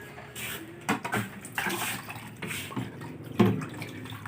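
Water running from a tap outdoors, an uneven gushing and splashing with irregular surges and spatters, fairly faint and close, with no voices.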